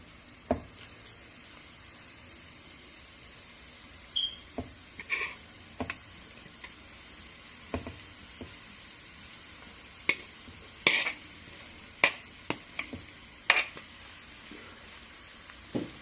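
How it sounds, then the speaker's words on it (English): Carrots frying in a pan for a carrot curry, a quiet, faint sizzle under scattered sharp clicks and taps of a spoon against the pan, coming in irregular bursts over a long stretch with no talking. "And stir it and allow it to settle down for a while"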